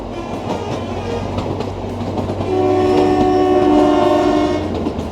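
The Kalka–Shimla toy train runs along a road through pine forest, its wheels rumbling steadily as a sustained horn sounds loudly for about two seconds, close by and with no talking.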